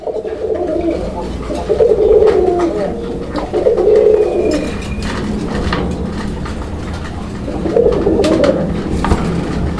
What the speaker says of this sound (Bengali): এখানে আরও একজোড়া কবুতরের নর এই যে ডাকতেছে